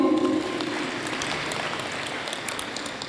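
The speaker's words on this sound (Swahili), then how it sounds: "Tuwapigie makofi." Clapping at a Catholic church self-help group's annual general meeting, steady and moderately loud, with a faint tone at the very start.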